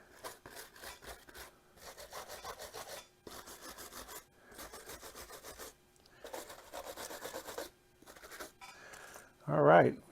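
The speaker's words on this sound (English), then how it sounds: "we're going to take our little stainless steel brush right now. We'll take and brush our joints down." A small stainless steel wire brush scrubs the soldered joints of a leaded glass panel in repeated bursts of rasping strokes, close and fairly quiet, separated by short pauses.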